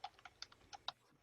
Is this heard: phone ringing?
no